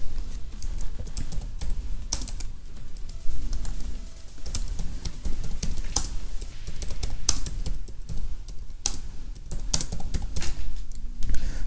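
Someone types an email on a computer keyboard, fast irregular clicking keystrokes close up, with short pauses between bursts.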